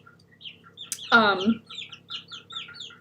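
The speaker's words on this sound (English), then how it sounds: "I hear the bigger birds going." Chickens on a morning homestead call out in a brief burst of clucking and squawks, fairly close, with faint bird chirps scattered around it and a quiet background.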